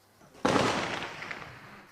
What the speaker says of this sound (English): They still live with the gunfire, but now it's outgoing.